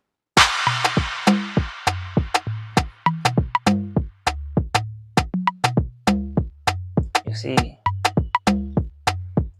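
A programmed Afrobeat drum loop built in FL Studio, with steady punchy kicks, snappy percussion hits and a tonal bass pattern repeating in a tight groove, loud and close, with a brief spoken phrase near the start.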